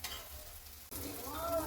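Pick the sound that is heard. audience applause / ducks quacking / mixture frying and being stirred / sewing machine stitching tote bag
mixture frying and being stirred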